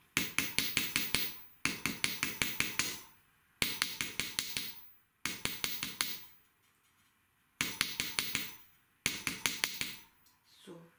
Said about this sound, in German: Und wenn ihr hämmert, passt bitte auf